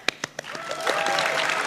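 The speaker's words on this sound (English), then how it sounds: "Please give a round of applause." Audience applause at the OSGeo annual general meeting: a few sharp separate claps open it, then they swell into a steady round of clapping that stays fairly quiet and fills the rest of the moment.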